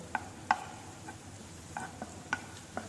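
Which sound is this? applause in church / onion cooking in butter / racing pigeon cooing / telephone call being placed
onion cooking in butter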